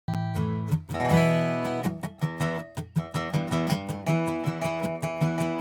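A guitar plays a short melodic phrase with plucked notes and chords, sounding dry and close with quick note decays and no room echo.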